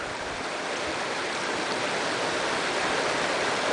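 River water flowing steadily, a dense, even rush of water heard up close with no pauses and no voices.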